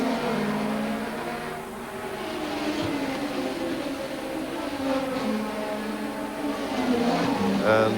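Turbocharged 1985 Formula 1 race cars at the German Grand Prix roar steadily past at a distance, a continuous engine drone that swells toward the end, with commentary talking over it.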